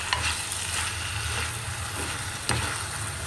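Food fries in a pan with paprika while being stirred, a steady close sizzle with a few soft scraping strokes of the utensil and a low hum underneath.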